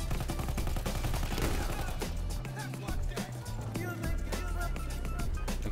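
Rapid gunfire from the Battlefield 1 video game rattles loudly in dense bursts, with deep booms underneath and a player's voice talking over the shooting.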